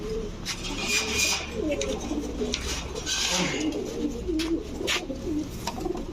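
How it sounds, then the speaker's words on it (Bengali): A newly matured female Chuithal pigeon with a tight-throated, tiger-marked neck coos in soft repeated throaty phrases at close range, among other pigeons at a breeder's loft, with faint background voices. "মানে আফসান বাঘা গলা কষা চুইঠাল একটা মাদি কবুতর।"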